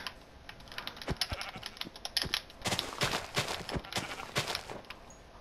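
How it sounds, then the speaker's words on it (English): Sheep bleat quietly in the Minecraft video game, mixed with a busy run of sharp keyboard and mouse clicks that tap out an irregular rhythm throughout. "Oh, there's another sheep."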